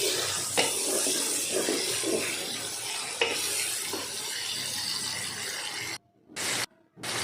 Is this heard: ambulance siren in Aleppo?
no